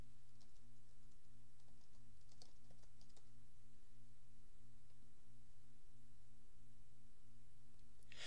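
Keys on a computer keyboard being tapped to enter a keyword in video-editing software: soft, sparse clicks scattered over a low steady hum, quiet and close, with no talking.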